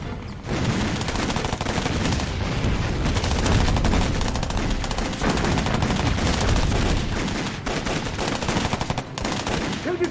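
Battle gunfire rages nonstop: dense, loud volleys of rifle and machine-gun fire overlap into a continuous crackling fusillade, close by and heavy throughout, with no voices.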